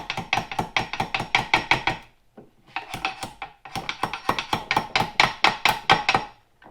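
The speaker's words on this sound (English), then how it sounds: "You just tap this down." A metal seal piece being tapped down into a boat lower unit housing during a reseal: two runs of quick, sharp, evenly spaced metallic taps close up, separated by a brief pause.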